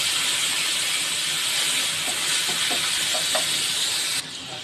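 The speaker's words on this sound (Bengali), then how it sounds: "তেলটা গরম হয়েছে, এবার চিংড়ি মাছগুলোকে ভাজতে দেবো।" Shrimp frying in hot oil in a pan, a loud continuous hiss and sizzle that drops slightly in level toward the end, without any voices.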